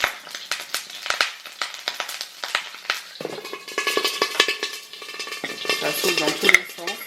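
Food fries in a pan on a home kitchen stove, a steady crackling sizzle with sharp pops and spatters that thickens midway, close and loud with no talking.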